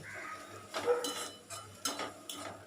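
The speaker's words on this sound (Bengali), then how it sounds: "খুন্তিতে একটু চেপে চেপে নাড়ছি" A metal spatula scrapes and presses mustard greens in a pan over a low gas flame, with faint, sparse clinks and stirring scrapes coming in short bursts.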